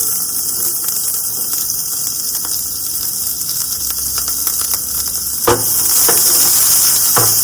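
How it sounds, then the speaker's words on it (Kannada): Onions frying in hot oil with curry leaves, a steady bright sizzle with small crackles and pops that grows slightly louder toward the end. "ಚಟಪಟ ಅಂದ ಆದ್ಮೇಲೆ ಇವಾಗ ನಾನು ಆನಿಯನ್ಸ್ ಹಾಕೊಂತಾ ಇದ್ದೀನಿ"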